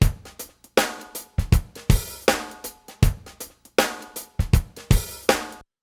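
A drum beat run through the Blues Driver wave-shaping curve in iZotope Trash 2 distortion: punchy, crunchy kick and snare hits in a steady repeating groove, loud and alone.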